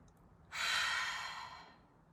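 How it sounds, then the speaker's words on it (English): One slow, deep breath out, a breathy airy rush starting after a short quiet moment, swelling then fading over about a second and a half, close and without talk. "take a deep breath."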